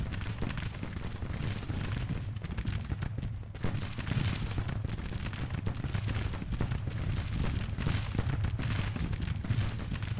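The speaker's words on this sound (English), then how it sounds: "Counter battery fire, damn it." Civil War cannons trade counter-battery fire in Grand Tactician: The Civil War, a steady, thick roar of booming guns and crackling volleys with no letup.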